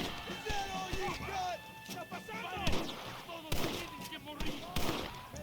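Gunfire during a Mexican Army mission in the video game Red Dead Redemption, sharp shots scattered in irregular bursts amid game sound, with someone talking over much of it.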